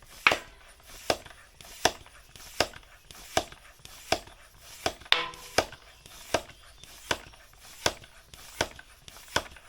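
Someone inflates a tubeless Panaracer GravelKing bicycle tyre with a hand pump, making a steady series of about thirteen sharp, evenly spaced strokes that repeat roughly every three-quarters of a second, close and clear with no talk.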